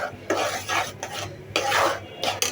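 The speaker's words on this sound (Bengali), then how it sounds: "এটা একটু করে নাড়ে" A spoon stirs jackfruit seed dal with green chilies in a cooking pot, giving several scraping, swishing strokes in irregular bursts with short pauses, close and moderately loud, no voices.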